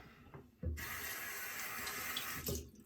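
Water runs steadily from a tap while a product is worked in, starting abruptly, flowing for about two seconds and stopping, close and fairly loud with no talk.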